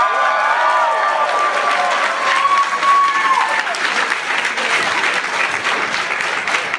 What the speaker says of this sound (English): Give an extra round of applause for Christine.